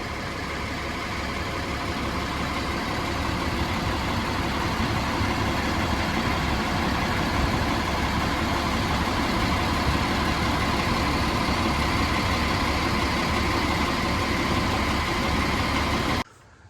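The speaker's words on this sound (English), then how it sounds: "And now we have more trucks." Water well drilling trucks sit idling with a steady, loud, low diesel rumble that holds unchanged for about sixteen seconds before cutting off abruptly.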